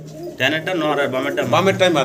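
Large local coloured Golla pigeons coo softly and steadily close by while someone talks over them.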